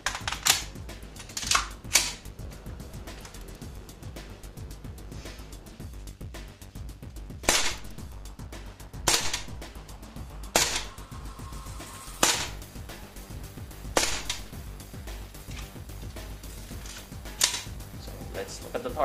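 A Lonex gas blowback airsoft rifle with steel internals firing 0.25 g BBs on green gas, about a dozen sharp single cracks spaced irregularly at close range, with faint clicks between shots.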